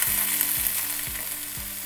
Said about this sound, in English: So we're gonna take our 1 chopped onion, saute that in our olive oil.